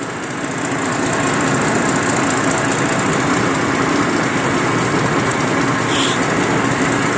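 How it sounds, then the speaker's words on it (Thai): A newly rebuilt vehicle engine idles during a system test, before its chain is fitted. It gives a loud, steady, close-up drone with constant buzzing vibration and no pauses, and no one speaks. "วันนี้ติดเครื่องแล้ว"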